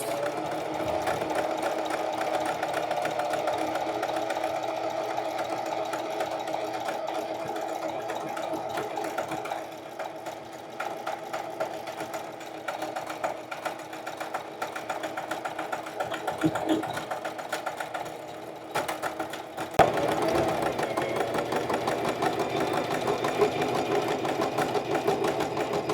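A Singer Facilita Pro sewing machine stitches a buttonhole in a steady, rapid mechanical whir, with a brief pause and a restart, close and clear throughout.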